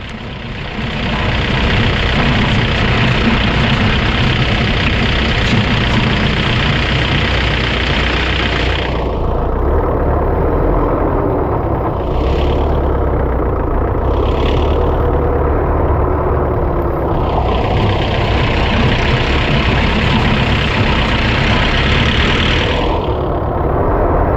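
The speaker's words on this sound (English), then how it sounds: "I'll let you watch and hear the suspension work over these high-speed trails." A Force Gurkha 4x4 with a suspension lift kit drives over a high-speed offroad trail, its engine droning loudly and continuously, with rumbling and rattling from the suspension beneath it.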